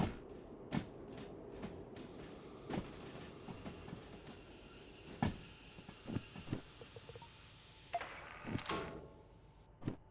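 A train in Derail Valley rumbles along with sharp metallic clanks and knocks at irregular intervals, wheel squeal and faint tonal whines above a low continuous rolling drone, with no voices.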